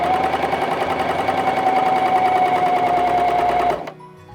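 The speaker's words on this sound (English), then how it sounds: "I like to take a few stitches and then just cut it" A Janome CoverPro 3000 cover stitch machine runs a fast, loud, steady stitching whir with a rapid mechanical rattle and a high hum. It stops abruptly near the end and leaves quiet behind.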